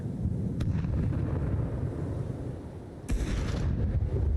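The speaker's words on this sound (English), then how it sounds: "Grenade out. Throwing a grenade." Grenade detonation in a first-person shooter game, with a low, heavy booming rumble running throughout and a sharper burst near the end.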